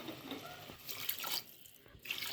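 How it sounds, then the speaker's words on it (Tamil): Water is poured into a pot of fish curry cooked with raw mango, a close running trickle and splash that surges and eases, then dips to quiet before picking up again. "தண்ணி சேர்த்துக்கிறேன்."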